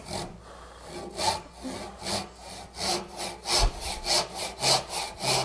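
Hand saw cutting wood to a knife line for a lap joint, a steady run of rasping back-and-forth strokes that grow quicker and more even toward the end, close and alone without talk.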